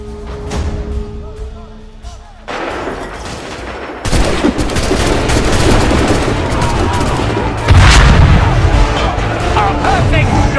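Cannon fire and gunshots in Assassin's Creed III, a sudden heavy boom followed by a dense battle din of shots and rumbling, with a louder blast near the end and voices heard at the start.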